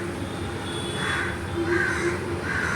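Several crows caw outdoors in a series of three repeated calls, moderately near, over a steady background hiss.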